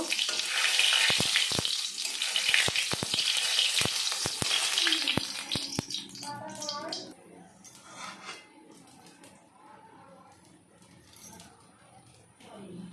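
Whole cumin seeds dropped into hot oil in a village-style kitchen pan, a loud steady sizzle with sharp crackles that fades to a softer hiss after several seconds, with no talk.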